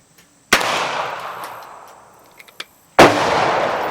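Two sharp, loud double-action revolver shots at a shooting range, each a crisp crack with a trailing ringing decay, about two and a half seconds apart, with small clicks between.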